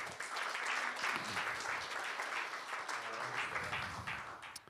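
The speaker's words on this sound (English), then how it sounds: "So let's give a round of applause for, what's that?" A church congregation claps together in steady, continuous applause at the Center for Spiritual Living in Olympia, moderately loud and even, with no voice over it.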